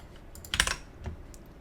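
A short burst of keystrokes as code is typed on a computer keyboard, a quick cluster of clicks followed by a single later tap, close and clear with no talk.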